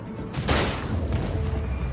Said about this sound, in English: I'm gonna hit you with my torpedoes